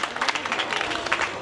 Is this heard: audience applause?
yes